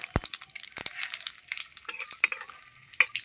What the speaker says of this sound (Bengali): তেল দিয়ে দিলাম, ফোড়ন দিয়ে দেবো, দেবো গোটা জিরে, একটা তেজপাতা, একটা শুকনো লঙ্কা